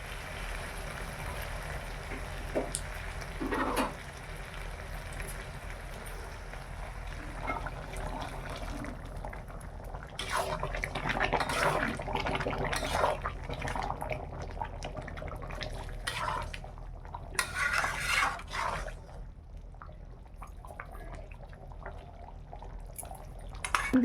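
Water trickles and splashes into a pot of chicken curry, a soft liquid pour with gurgling bursts that swell and fade over a steady low kitchen hum.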